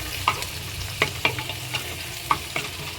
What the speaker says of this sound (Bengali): পেঁয়াজগুলো নেড়ে নেড়ে হালকা বাদামি কালার হয়ে যাবে